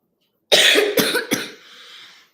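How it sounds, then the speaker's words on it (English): A single close cough bursts out in three sharp hacks, followed by a brief breathy trailing exhale, then silence. "I just have a cough"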